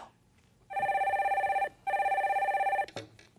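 A telephone bell rings in two loud, steady electronic bursts, each roughly a second long with a short gap between, as a call is put through on a Korean stock-market call-in broadcast; no one speaks over it.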